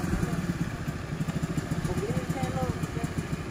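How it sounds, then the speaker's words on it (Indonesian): A mini trail motorcycle runs steadily close by with a continuous mid-pitched engine drone, and people talk over it throughout. "Motornya kencang."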